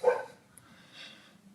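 One short, fairly faint bark from a pet dog in the background of an indoor home setting comes at the very start, followed by a low, quiet room with no voices.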